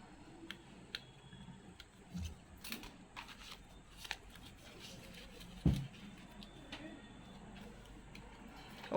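Scissors cut through a folded paper circle with a few faint, close snips and crisp paper rustles, spaced irregularly over quiet room noise.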